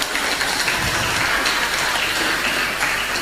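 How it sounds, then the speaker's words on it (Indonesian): Strong applause from a debate audience: dense, continuous clapping that stays loud and even throughout, like a steady roar of many hands with no voices standing out. "Tepuk tangan yang kuat."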